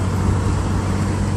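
Steady road traffic with big trucks passing, a continuous loud rumble with a strong low drone and broad noise, no breaks over a short stretch.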